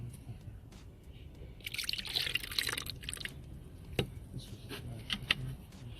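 Coolant being poured into a car's cooling system during a heater core flush, faint trickling and dripping liquid up close with a brief burst of gurgling flow in the middle and scattered drips after.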